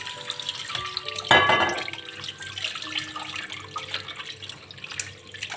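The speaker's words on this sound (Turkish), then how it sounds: "Bir kaç su yıkayalım. Böyle kanlı suyunun akması lazım iyice." Liver is rinsed under a running kitchen tap with steady, moderate splashing water, a louder gush briefly as it's moved under the stream.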